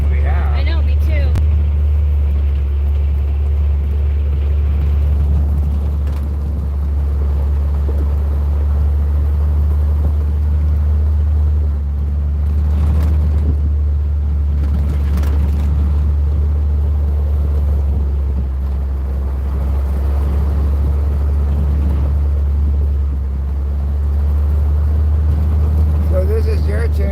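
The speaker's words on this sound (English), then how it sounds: "Chance to enjoy a virtual ride in a little wilderness car back behind the Jersey-Dale Ranger Station" A small wilderness car rides along a back road behind the Jersey-Dale Ranger Station, its engine a steady, loud low rumble throughout with occasional bumps and rattles, while people talk over it.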